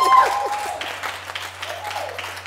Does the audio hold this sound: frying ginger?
no